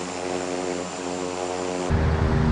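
A Flybe propeller airliner powers up for takeoff in the Infinite Flight game, a steady droning engine hum with layered tones that swells into a louder, deeper roar near the end.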